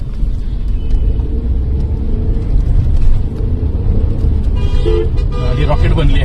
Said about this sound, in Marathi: पिकअप खूपच जबरदस्त वाटतोय. गाडी प्रॉपर खेचल्यासारखी पुढे जातीये